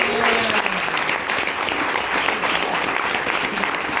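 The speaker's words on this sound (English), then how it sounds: "One more round of applause for Reggie." Audience applause fills a bookstore event at a book launch conversation, steady dense clapping throughout, loud and close with a few voices mixed in.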